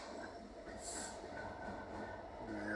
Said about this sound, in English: That is a Class 66 Freightliner hauling biomass at night.